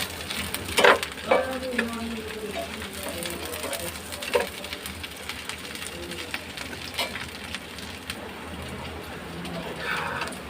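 Chopped onions, more than a cup of them, sizzle and crackle steadily in hot oil while being browned for a home-style beef kala bhuna, with occasional stirring taps and clatter close by.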